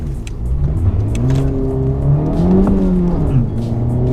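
Honda Civic Type R accelerating hard and shifting into second while turning, its engine loud and close with rising revs, a brief dip at the gear change, then climbing pitch again.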